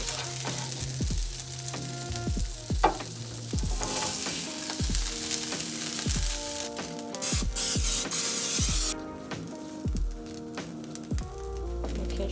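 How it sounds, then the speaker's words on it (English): Burger buns toast for a chicken sandwich in the same hot pan, giving a steady, close sizzle and crackle throughout with occasional soft knocks and scrapes. No one speaks. "we're grilling our buns right here in the same pan."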